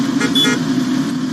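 Traffic with a car horn honking in a short toot over a steady engine rumble, close and brief.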